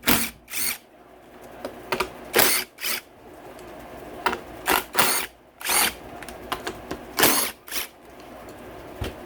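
Repeated short bursts from a cordless impact wrench, roughly a dozen sharp hammering rattles spread over several seconds with brief pauses between, loud and close in a motorcycle workshop setting on a KX250F.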